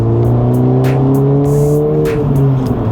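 A Honda Civic Type R FL5 fitted with an AWE aftermarket exhaust drives on a road test, its engine note a loud, steady drone that rises slightly in pitch, heard up close with no talking.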